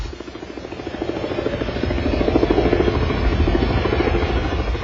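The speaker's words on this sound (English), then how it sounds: "Above the intersection of Florence and Normandy streets, television helicopters are feeding live pictures out to the whole country." Television news helicopters hover over the Florence and Normandy street intersection during a riot, their rotors a steady, loud, continuous throb with a rhythmic chop that swells slightly midway.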